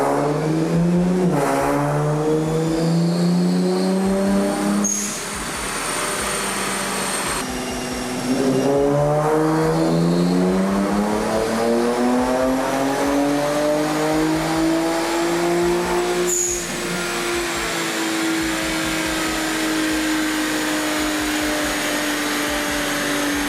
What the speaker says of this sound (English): this car isn't making too much power right now. I think those flow valves are just bleeding off the boost